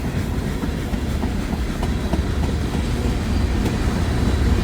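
A CSX auto rack freight train rolls past steadily, a continuous loud rumble with faint rhythmic clickety-clack of wheels over rail joints throughout.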